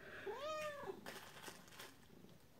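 A house cat gives a single drawn-out meow with a rising and falling pitch, close and clear, followed by faint rustling and handling noises in an indoor room while items are unpacked.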